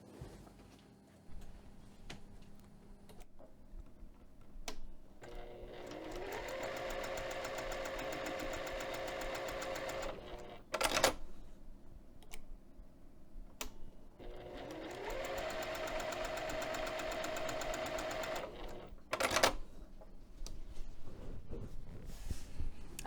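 A sewing machine topstitching fabric for a bag side pocket, running in two long steady mechanical stitching passes separated by a pause, close and clear with light handling noise between.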